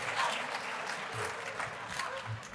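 A crowd applauds steadily, a dense wash of clapping that holds at an even level throughout.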